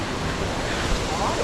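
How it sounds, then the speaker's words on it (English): Waterfall in northern Bali roaring as a dense, steady wash of rushing water close by, with no pauses or variation. "Korea waterfall."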